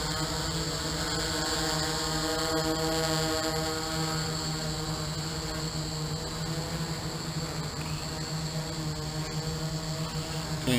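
A DJI F450 quadcopter drone with large parallel batteries hovers nearby, its propellers giving a loud, steady whine with strong tonal buzzing that barely changes as it climbs slightly.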